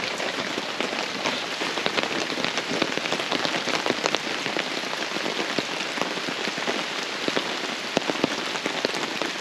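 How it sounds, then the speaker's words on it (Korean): Hail hammers down on a car during a car-camping trip, a dense, continuous patter of sharp impacts that sounds loud and close throughout. "대박이 아니고 우박이야, 우박."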